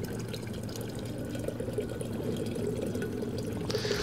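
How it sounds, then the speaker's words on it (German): Water cooler in the video game Prey pouring a steady stream of water, a continuous liquid gurgle held at an even level throughout, with a brighter splashing burst near the end. "Wasserkühler. Lecker."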